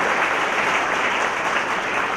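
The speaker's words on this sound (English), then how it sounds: "a big round of applause for all the organizers" A large audience at a scholar award ceremony claps loudly and continuously, a dense, even roar of applause with no break.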